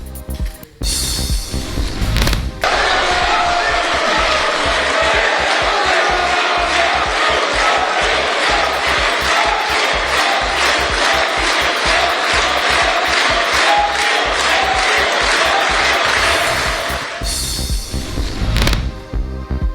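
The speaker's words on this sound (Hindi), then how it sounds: "नए संसद भवन में पीएम मोदी की एंट्री के बाद तालियों की गड़गड़ाहट।" Members of parliament applaud and chant Modi's name at the new Parliament building inauguration, a loud, continuous crowd roar with rhythmic clapping and massed voices filling the hall throughout.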